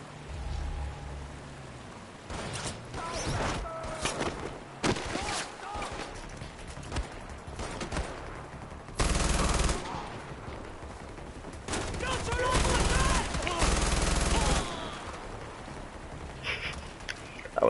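Gunfire from the player's gun in Far Cry, heard as loud bursts of rapid automatic shots in several separate volleys with pauses between, some long sustained strings, with a voice talking in the gaps.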